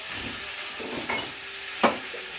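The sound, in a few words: browning chicken in plant-based butter, frying sizzle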